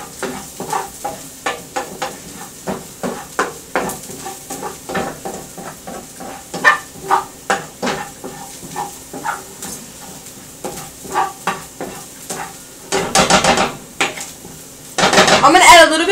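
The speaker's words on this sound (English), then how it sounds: "And you just want to mix that in with your onions." Onions with cumin sizzling in a pan while a metal utensil scrapes and taps the pan in a quick, steady stirring rhythm, with a louder clatter of pans toward the end.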